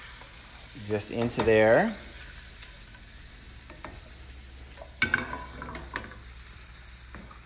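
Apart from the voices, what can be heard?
raw shrimp added to a frying pan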